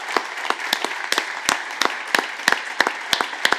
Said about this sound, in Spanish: Por favor, vamos a darle un aplauso a Ton